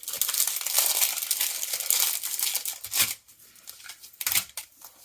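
Plastic sleeve magnetic die storage pockets, holding cardstock and a magnet sheet, are handled. Loud continuous crinkling gives way to a few separate rustles and crackles.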